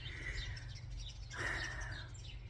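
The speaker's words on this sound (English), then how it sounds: "Hear all the birds." Birds chirping outdoors, a few faint, quick tweets and calls over a low background rumble, with no voices.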